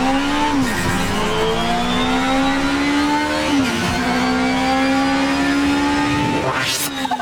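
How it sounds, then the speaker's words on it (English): A 1978 BMW 320 Turbo racing in Project Motor Racing, its engine droning loud and close as it climbs through the revs, with several sharp gear changes and a final high-pitched rev. "tell you exactly what, you know, a 1978 BMW 320 Turbo sounds like"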